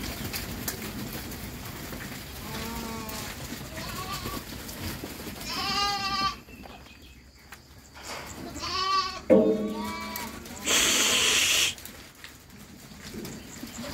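Romanov sheep, pregnant ewes kept for sale, bleat in a series of wavering calls, some close and loud, alongside bird chirps and outdoor farmyard noise.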